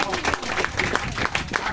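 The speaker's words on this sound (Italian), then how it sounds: "a cui va un grande applauso" Audience applause for Mirko Loia, president of the La Ruota della Fortuna association, at an outdoor art prize ceremony in Marina Piccola, a steady patter of many hands clapping with crowd murmur and voices mixed in.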